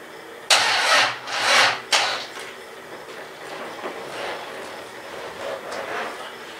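A Triumph car engine cranks on a weak battery, giving a few short sluggish bursts of turning over early on, then fading to quiet background noise without catching.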